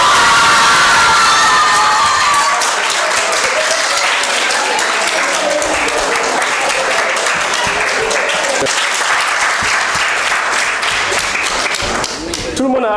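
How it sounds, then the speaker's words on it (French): Audience applause with cheering and children's shouts after a school quiz match, Cours AMJ against Galandou Diouf, at Balade des génies 2024. The clapping is loud, dense and continuous, fading slightly near the end. "Vous méritez ces applaudissements."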